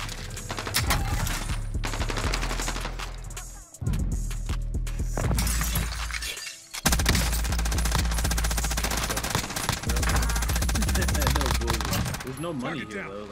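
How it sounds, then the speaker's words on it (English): Automatic sentry gun in the Warzone battle royale game firing long rapid bursts with loud, dense crackling, broken by a few short pauses, while players talk excitedly over it. "I got a sentry gun out there and it just went off."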